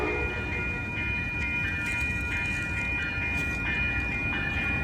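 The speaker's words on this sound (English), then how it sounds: "It's good to see an ALC 42 leave." Amtrak Coast Starlight train led by an ALC-42 locomotive pulling away past 98th Avenue in Oakland on a rainy day, a steady rolling rumble with sustained horn tones, moderately distant.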